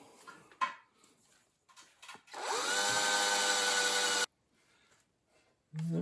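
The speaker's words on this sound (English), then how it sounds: "I like to drill a pilot hole." A handheld power drill bores a pilot hole into metal on a 2005 Jeep Grand Cherokee during an engine swap, spinning up with a rising whine, running steadily for about two seconds, then stopping abruptly amid quiet handling noises.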